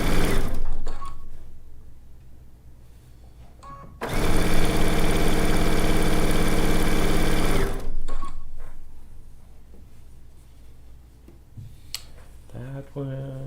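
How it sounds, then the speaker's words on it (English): A sewing machine runs in one steady, loud burst of about four seconds, stitching the last two units of a zig zag quilt together; talking comes before and after the stitching. "the last two units on this one to sew together"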